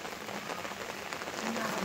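Heavy monsoon rain falling outdoors by a canal during fishing, a steady, fairly faint hiss of drops that thickens slightly toward the end.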